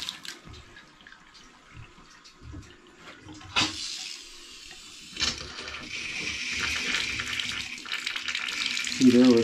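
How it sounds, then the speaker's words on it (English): Water gushes from a Price Pfister shower valve with the shower head removed, a hissing rush that starts partway through and grows steadier and louder, with a voice faintly heard near the end. "take your shower head off before you turn that shower on in case there's any debris in there"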